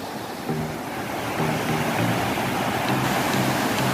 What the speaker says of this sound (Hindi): डैम पूरा ओवरफ्लो हो चुका है, ये देखो